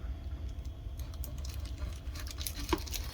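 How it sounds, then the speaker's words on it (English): Buttons on a NutriBullet 800 watt immersion stick blender are pressed repeatedly, giving a quick series of light, close plastic clicks with small taps and handling noise between them. "Listen to those buttons."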